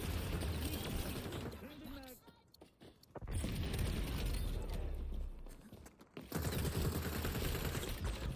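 Rapid automatic gunfire from the shooter game XDefiant crackles in dense bursts, pausing briefly twice before resuming loud and close, with speech mixed in.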